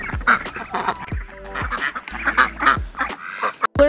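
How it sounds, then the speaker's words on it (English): Ducks quack repeatedly in an irregular, overlapping series, loud and close, with a higher honk near the end. "Teaching your kids how to quack, Goose."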